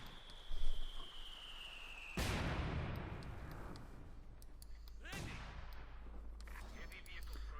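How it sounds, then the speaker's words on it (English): Mortar fire in Company of Heroes 2 during a 1v1 match, two heavy booms a few seconds apart, each with a rolling rumbling tail, over a low battlefield ambience with faint scattered gunfire. "Mortar firing away."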